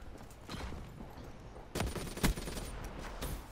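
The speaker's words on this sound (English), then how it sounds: "Put another rocket in it." Rockets fired repeatedly in a first-person shooter video game, several dull booming launches and blasts at moderate loudness amid continuous game noise, with no talking.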